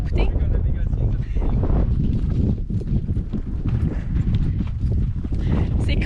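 A horse's hooves clip-clop steadily while descending on a ride through the Tatacoa desert canyon in Colombia, with gusty wind buffeting the microphone and a voice talking over it.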